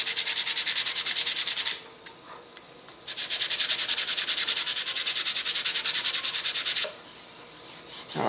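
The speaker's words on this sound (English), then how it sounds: "we will sand that nice and flat" Sandpaper rubs along the wing edge of a Protege elastic-launched Science Olympiad glider in quick, even back-and-forth strokes, close and loud, with two long sanding runs separated by a short pause.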